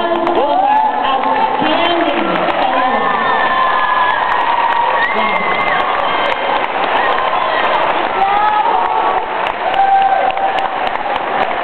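An audience at a children's choir performance claps and cheers for the soloists, with whoops and children's shouts rising over sustained applause; voices carry through the crowd noise.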